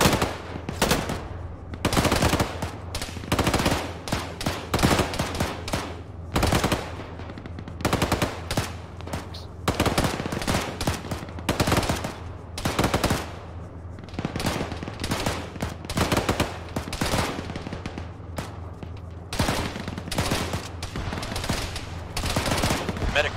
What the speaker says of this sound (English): lots of people are shooting over here